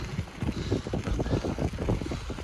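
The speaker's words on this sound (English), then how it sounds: "It's probably really windy." Wind buffets the microphone in low, rumbling gusts during a cross-country bike ride, steady and fairly loud outdoors with no voices.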